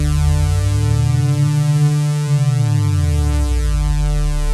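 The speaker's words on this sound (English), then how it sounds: "We can also play with the pitch of the sine waves." Soundpaint synth sine-wave oscillators hold a loud, sustained stack of pure tones while the low pitches bend down and back up in a slow sweep, with no voice.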